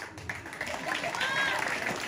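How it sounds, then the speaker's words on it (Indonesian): Audience applause rises through a talk setting, steady clapping at moderate level mixed with voices and faint whistle-like tones, lasting the whole short span. "Tepuk tangan"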